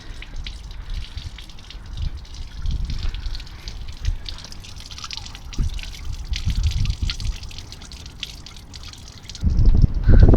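Washer fluid drains and drips out of the washer system of a Mini One F56 with blocked washer jets, a steady trickle and splatter close by that swells into a heavier gush near the end.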